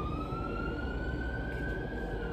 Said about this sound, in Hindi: एक्चुअली एम्बुलेंस जा रही है यहाँ से